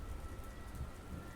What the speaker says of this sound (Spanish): una fuerte lluvia se dejó caer sobre todo el campo